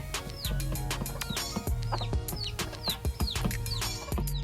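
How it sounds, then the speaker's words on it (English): A chicken at a petting zoo clucks repeatedly amid other farm-bird chirps and calls, close by, with busy overlapping animal sounds throughout. "It's a chicken. It's a pretty chicken."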